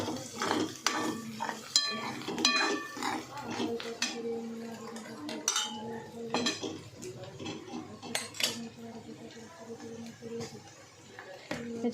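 A spoon scrapes and clinks against a pan as bhagar is stirred with pounded red chili, repeated metallic taps and scrapes, close and moderately loud, with a voice talking over parts of it.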